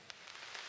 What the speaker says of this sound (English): It's raining. It is.